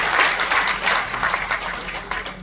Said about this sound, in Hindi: जोरदार ताली बजा के साथी का स्वागत करिए।